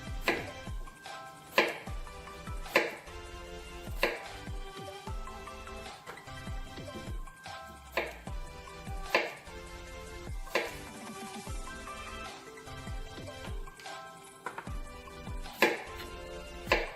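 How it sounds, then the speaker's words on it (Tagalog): A knife chops potatoes and other ingredients for a Korean soybean paste stew with Chinese cabbage, sharp knocks on a cutting board in uneven bursts with gaps, close and fairly quiet. "bali tuloy-tuloy lang yung paghiwa natin sa lahat ng mga sangkap"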